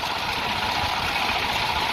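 A Honda GX390 generator engine fitted to a dune buggy runs at a steady, even drone, loud and close, with a constant hum and no pauses or voices.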